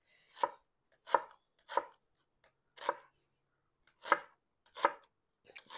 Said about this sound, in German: Ich schneide noch ein bisschen rote Zwiebeln für die Deko